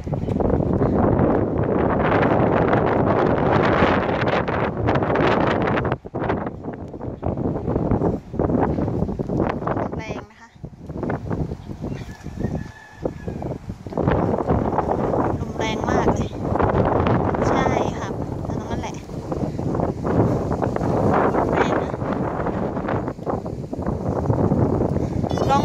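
Strong wind gusting across an outdoor Buddhist meditation temple grounds, a steady loud roar and buffeting against the microphone with brief lulls, while someone talks over it.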